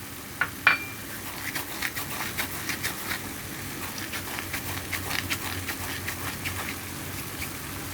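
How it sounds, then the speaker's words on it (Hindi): Chicken filling with pepper, soy sauce, green chili paste and whole cumin being stirred in a pan, a spoon scraping and clinking in irregular strokes over a soft steady sizzle, close and fairly quiet. "अब हम इसको अच्छी तरह से मिक्स कर लेते हैं।"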